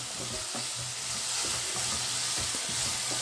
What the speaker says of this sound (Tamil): நல்லா கிண்டி விட்டுக்கிட்டே இருங்க